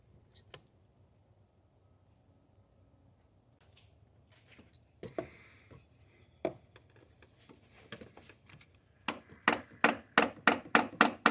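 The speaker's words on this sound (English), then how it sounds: "Starting with a soft face hammer here, see if we can get some movement." Soft face hammer striking the EGR valve on a 2019+ Mercedes Sprinter VS30 3.0 diesel van: scattered single knocks, then a fast run of about nine sharp, close, evenly spaced blows near the end, with no talking.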